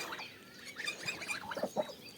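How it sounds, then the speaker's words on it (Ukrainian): Domestic geese honk and chatter in a short, irregular burst of calls at moderate distance, with no talking. "Це мої гусики. Прийшли їсти травичку."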